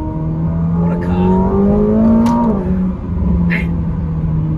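Close engine note of a 2024 McLaren 750S Spider pulling hard in third gear, a steady rising drone with turbo whoosh and a brief lift near the middle, continuous and loud, with someone talking over it.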